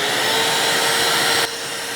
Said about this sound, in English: it might be a fairly powerful Hoover